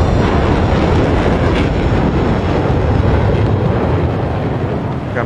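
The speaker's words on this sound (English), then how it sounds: "All the jets flying around are so noisy." Jet aircraft flying overhead in the War Thunder video game, a loud, continuous broadband roar that holds steady for the whole stretch with no speech over it.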